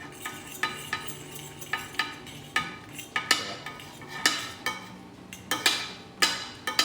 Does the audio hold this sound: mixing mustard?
yes